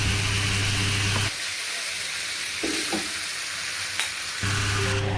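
Vegetables stir-fried in a pan: a loud steady frying sizzle with a low hum, easing into quieter scraping and stirring in the middle before the full sizzle returns, with no voices.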